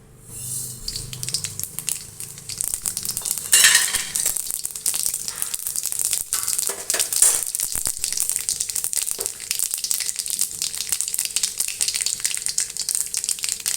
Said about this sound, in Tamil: நல்லா கடுகு தாளிக்கிற வரைக்கும் பொரியிற வரைக்கும் நம்ம பொறுமையாக இருக்கணும்